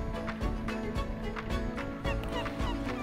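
A seagull in Minecraft, the video game, squawks over and over while chasing the player, its harsh, loud cries repeating in a quick, uneven rhythm.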